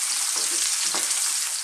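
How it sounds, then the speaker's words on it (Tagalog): Onion and chili sautéing in a pan for ginisang munggo, a steady bright sizzle with a few soft stirring scrapes. "ilalagay na rin natin ang onion at ang sili. Kaya lang po natin, haluin natin."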